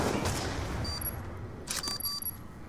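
Gunfire from the Black Ops 2 video game during a Search and Destroy round: a few sharp shots and bursts toward the end, over a steady low rumble of game ambience.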